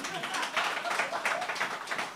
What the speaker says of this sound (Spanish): ¡Aplauso, coño!